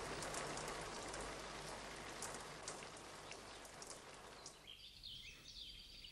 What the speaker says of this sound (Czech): okna depozitářů a chodeb bičuje déšť.